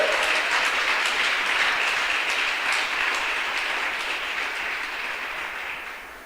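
A church congregation applauds God at a sermon, steady dense clapping from many hands filling the room and slowly tapering off, with no voices over it.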